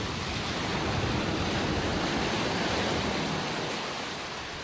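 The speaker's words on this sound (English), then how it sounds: "So this is shallow wading with a Discovery." A Land Rover Discovery shallow-wading through water off-road, a steady broad rushing wash of churned water, loud and continuous throughout with a slight easing toward the end and no voices.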